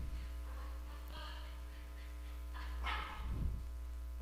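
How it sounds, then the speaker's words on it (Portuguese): Dogs bark a few times at a distance, faint over a steady electrical hum, with a couple of louder barks near the end. "tem os cachorros aqui em casa aqui que estão tocando terror"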